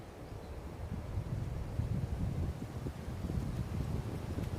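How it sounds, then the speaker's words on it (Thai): Strong wind buffets the microphone outdoors beside a busy main road with a bike path, a steady low roaring rush that stays loud and unbroken throughout. "ลมแรง"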